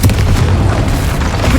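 A Confringo blasting spell explodes in Hogwarts Legacy, a loud, deep, rumbling boom that fills the whole short moment.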